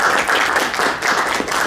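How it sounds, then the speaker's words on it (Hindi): Brief burst of audience clapping welcoming guests to the stage at a Hindi book launch event, dense and steady for under two seconds. "तालियों से स्वागत कीजिए।"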